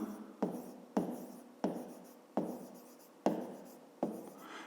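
Pen or chalk strokes from working out a grade-five maths problem come as a series of sharp, close taps and short scratching lines, about one every half second to second, with brief pauses between.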